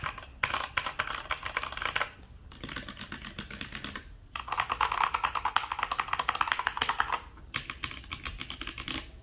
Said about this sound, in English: These linear switches are so much more quiet than the Red Dragon.